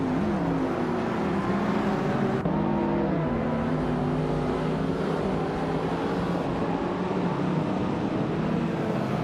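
Race cars, among them a 1989 Ford Sierra RS 500, roar continuously while overtaking one another, engine notes rising and shifting as several machines pass close by, loud and unbroken throughout.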